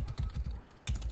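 Quick run of keystrokes on a computer keyboard, close and clear, a steady patter of taps with a brief pause before a final few presses.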